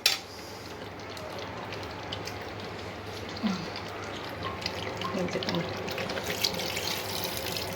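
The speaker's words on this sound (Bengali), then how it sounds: "এবার পরিমাণ মতন অল্প পানি দেবো" Water splashes and trickles into a curry in a pan in a steady, moderate pour, with faint background noise throughout.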